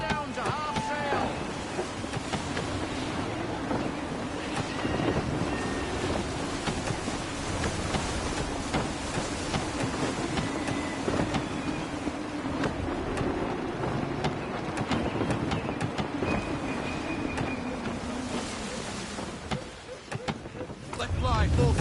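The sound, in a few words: gusty wind and sailing ship in video game Assassin's Creed 3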